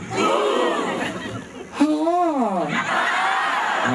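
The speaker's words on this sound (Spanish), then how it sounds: "voy a hacer un grito y ustedes repiten todo absolutamente como yo estoy diciendo" Live show audience in Coronel Oviedo yelling back in a call-and-response, a loud crowd roar following a performer's drawn-out shout, with the performer talking before and after.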